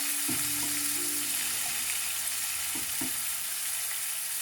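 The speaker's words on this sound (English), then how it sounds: "So now it's about time to put my tomatoes. There you go. Hear the sizzle?" Fresh tomatoes sizzle as they fry in a pan, a steady close hiss with a few short clatters of stirring or pan movement.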